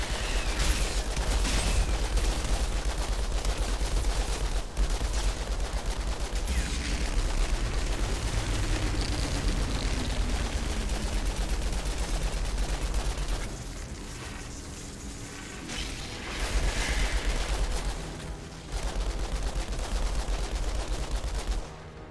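Sustained gunfire in the shooter game Outriders, rapid bursts and steady automatic fire running almost nonstop with brief lulls, loud and close over game ambience.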